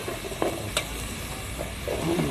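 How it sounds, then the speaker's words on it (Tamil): Ginger garlic paste sizzles steadily in a pan while being stirred and sautéed for a snail curry, with a continuous close frying hiss and a few soft scraping stirs. "நல்லா இஞ்சி பூண்டு பச்சை வாசனை போகிற அளவுக்கு நல்லா வதக்கிப்போம்."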